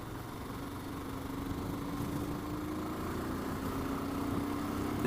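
Royal Enfield Himalayan motorcycle engine held at high revs, about 5,500 RPM, while riding: a continuous droning buzz with slowly rising pitch, steady and fairly loud against wind noise.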